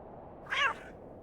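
A single short cat meow in the video game Hob's Barrow, clear and mid-pitched, rising over a quiet low ambient hum.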